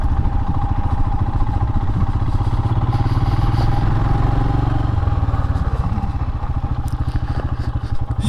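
A Royal Enfield Himalayan motorcycle engine chugs loudly and close by, its rapid, even thumping pulses continuing steadily with a light mechanical clatter.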